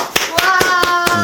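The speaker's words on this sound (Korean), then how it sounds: "우리 19만 구독자 박수." Sharp hand claps ring out in a quick run of about five, close and loud in a studio setting, with a voice overlapping.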